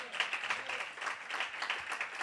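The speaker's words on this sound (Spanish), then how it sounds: "Dale fuerte el aplauso." Church congregation applauding, a dense, steady patter of many hands clapping together, moderately distant and fairly soft, continuing for the whole moment.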